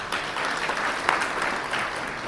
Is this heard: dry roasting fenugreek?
no